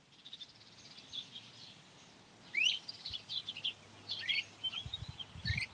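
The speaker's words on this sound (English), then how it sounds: "I got a tree frog somewhere close." A tree frog calls nearby outdoors at night, giving faint, repeated high chirps that come in short bursts over a quiet background hum.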